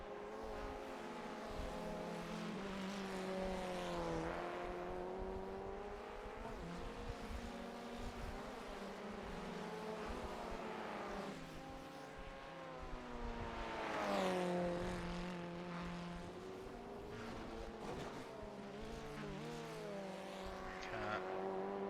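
Formula Ford race cars exiting the pits at Sandown in an iRacing sim race, several engines droning steadily and rising and falling in pitch together as they accelerate and shift, continuous and fairly close.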